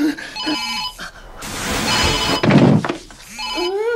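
A Siemens SL45 mobile phone ringing in an advert, a bright electronic ringtone repeating in short bursts amid music and other sounds, loud and close.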